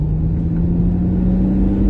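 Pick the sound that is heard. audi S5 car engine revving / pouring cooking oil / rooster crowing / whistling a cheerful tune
audi S5 car engine revving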